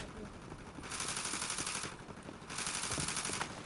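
Rapid gunfire from a Fortnite match crackles in two dense bursts of sustained automatic fire, separated by a brief lull, fairly loud and continuous throughout.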